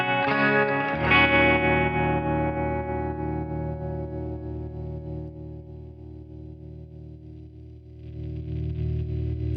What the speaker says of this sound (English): So we've got vibrato and reverb.